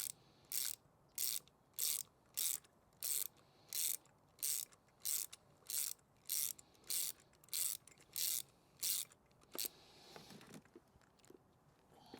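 Ratchet socket wrench tightening during a service on a Honda Civic Type R FK2, a regular series of about fourteen crisp, close clicking bursts, then a brief metallic handling noise and quiet.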